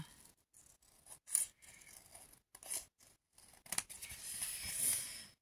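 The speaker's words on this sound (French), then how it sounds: "on vient couper ce qui dépasse" Scissors trim excess paper from a vintage scrapbooking page in a series of quiet snips close by, short crisp cuts with pauses between them, then a longer slide of the blades through the sheet.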